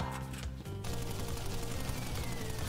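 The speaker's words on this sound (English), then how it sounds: "Those bullets seem to be flying like really slow. This is not the same Tommy gun in PUBG." The Tommy gun in Crash Bandicoot N. Sane Trilogy fires a brief rapid burst at first, then gives way to a busy, dense game soundscape, all fairly faint.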